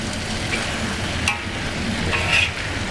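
Filling mixed with miso paste being stirred in a pan: a soft continuous sizzle with faint scraping and a few light clinks of utensil against the pan, steady and close.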